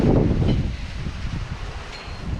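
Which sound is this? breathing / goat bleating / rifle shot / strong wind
strong wind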